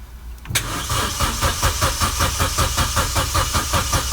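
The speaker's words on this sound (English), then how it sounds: "I'm gonna plug that battery and try to start the car again" A Vauxhall Corsa D engine, with a faulty crankshaft sensor, cranks and catches after a brief quiet moment, then runs with a rough, pulsing idle, loud and close.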